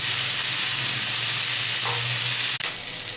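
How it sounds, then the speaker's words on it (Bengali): Cauliflower frying in a pan for a Bengali-style fish curry: a steady, close sizzle and hiss of oil throughout, with a brief clatter near the end and no talk. "ফুলকপিটা আমি খুব ভালো করে ভাজি একদম লাল লাল করে ভেজে নেব"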